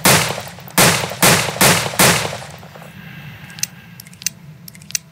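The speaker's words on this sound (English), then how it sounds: "I forgot to show you the Hammerless revolver's reload speed" Five sharp, loud revolver shots from the Hammerless revolver in Red Dead Online ring out in quick succession, then the gun is reloaded with faint clicks and metallic clacks.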